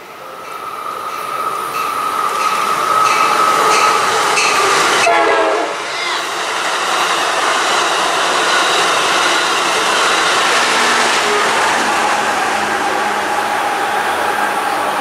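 A passenger train with a lounge car passes at Buena Park: a loud, close rumble of cars with rhythmic wheel clatter and a horn blast early on, steady for about fifteen seconds.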